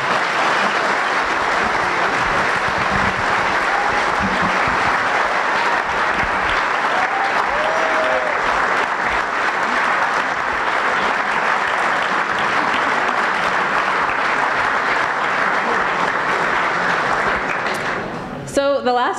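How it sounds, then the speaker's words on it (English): A large audience at a TrackTown Tuesday event applauds loudly and steadily for nearly twenty seconds, a dense wash of clapping that stops abruptly near the end. "Everyone, please thank Ari and Deja for joining us"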